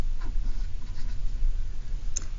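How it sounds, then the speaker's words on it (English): Pen or pencil scratching notes by hand on paper, soft and close, with a few light strokes over a low background hum and no talk. "so I'm going to write that down"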